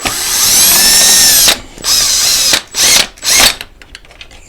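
A power drill backs screws out of the plastic shroud on a Pride Go Go Elite Traveller Plus four-wheel mobility scooter. First comes one long loud whir, then several shorter bursts, all close by, with no one speaking.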